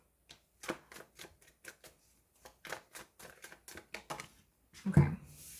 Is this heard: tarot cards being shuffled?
yes